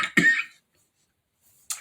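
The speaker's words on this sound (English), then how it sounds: "I didn't cough all day." A single short cough bursts out close by, followed by near silence and a faint breathy sound at the end.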